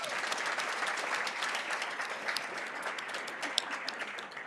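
An audience at a scholar-athlete recognition awards ceremony applauds for a recognized person, a sustained dense round of clapping from a crowd that holds steady throughout.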